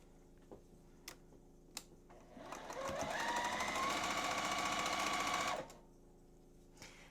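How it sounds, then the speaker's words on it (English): A sewing machine stitching together quilt fabric triangles for a Friendship Star block, running steadily for about three seconds after a few light clicks, close and alone. "Going to line up our corners, sew these together"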